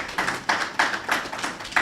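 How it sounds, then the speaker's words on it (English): Audience applause at a CARICOM heads of government regular meeting, heard as bursts of clapping that rise and fall in rhythm, fairly close and moderately loud with no voices over it. "Another round of applause, if you don't mind."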